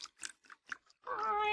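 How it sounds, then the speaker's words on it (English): Cat on a barroom counter meowing as a radio drama sound effect, a single drawn-out harmonic meow following a few brief spoken syllables. "Hush up, cat."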